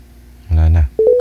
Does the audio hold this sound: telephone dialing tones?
yes